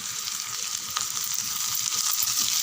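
Capsicum, carrot and cabbage sautéing in a pan give a steady, soft sizzle with light scraping and stirring clicks, close and continuous with no talk.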